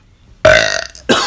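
A person lets out a loud, close burp after gulping air: one long, croaky rattling belch, followed by a short second burst.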